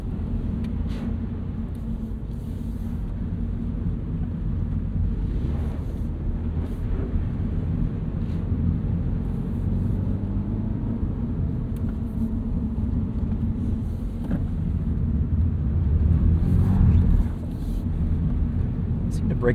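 A Subaru BRZ on all-season Bridgestone Potenza Sport AS tires runs sighting laps on a wet track. The engine drones steadily with low road rumble, which swells briefly near the end, and a voice talks over it.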